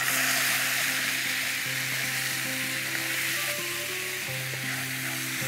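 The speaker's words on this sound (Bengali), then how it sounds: "আমাকে এখন এটা নাড়তে হবে, না হলে পুড়ে যাবে" A frying sauce of spice powder and tomato sauce hisses and sizzles steadily in a pan while it is stirred, with the scraping of the stirring just audible under a constant, close sizzle and no talking.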